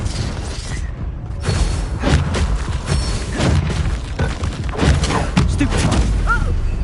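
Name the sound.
Confringo fire spell blast in video game Hogwarts Legacy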